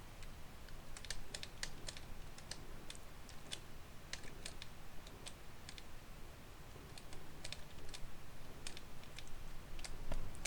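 Computer keyboard keys are pressed in quick irregular clusters of sharp clicks, fairly faint over a low background hum, continuing across the whole stretch.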